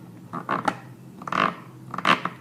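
Three short rough grinding scrapes of a paintbrush barrel against the ridges of a water bucket, close up and fairly quiet, with brief pauses between them.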